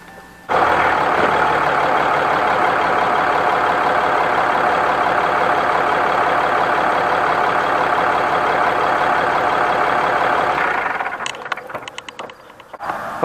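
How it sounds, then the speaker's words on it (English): A Dodge Ram pickup truck engine starts and idles steadily and loudly up close for about ten seconds, then shuts off with some clunks at the end. "now what I'm going to do is start the truck, put it in gear,"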